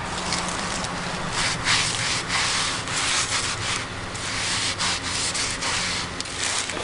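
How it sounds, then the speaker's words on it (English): A rag soaked in brake cleaner is rubbed across a steel brake rotor from an Oldsmobile Intrigue, giving a continuous close scrubbing hiss with short uneven strokes and no talk. "So I'm going to take some brake clean and a rag"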